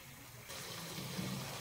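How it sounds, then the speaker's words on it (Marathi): Water pours steadily into a metal plate set atop a pot of cooking chicken, a continuous splashing rush that starts abruptly and keeps going, close and moderately loud. "वर ताट ठेवून त्यात पाणी घालते"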